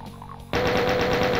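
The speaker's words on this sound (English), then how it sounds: "let's give this chain gun a whirl" Chain gun firing in the game Doom, a sudden rapid burst of evenly spaced shots after a quiet start, loud and continuous to the end.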